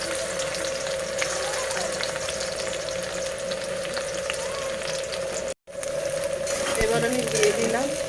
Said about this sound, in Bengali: তো এখন তেলটা গরম হয়ে গেছে, আমি এবার ছেড়ে দেবো রসুন কুচি।